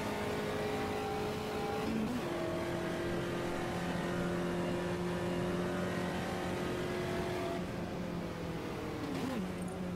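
A Volkswagen Fusca race car engine drones steadily in the Automobilista racing game, holding long even tones that shift with gear changes, revving and fading slightly as the car laps the track.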